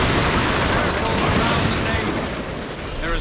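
Heavy ship cannon fire in Assassin's Creed Black Flag, a dense continuous roar of broadside blasts and booms that fills the whole stretch loudly.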